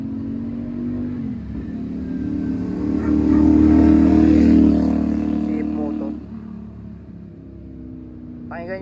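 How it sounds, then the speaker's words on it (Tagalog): Motorcycle engines on a road, rising into a louder rev in the middle before easing back down, with traffic passing close by. "Pakinggan nyo yung makina. Alam nyo, pakinggan nyo lang yung makina ng mga motor."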